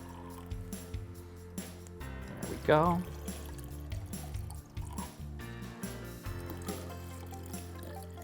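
Water poured into glass vases for a tulip arrangement, a soft trickling fill beneath steady talk, with a bright rising gurgle near the middle as one vase fills.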